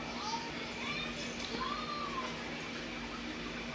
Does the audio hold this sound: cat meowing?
yes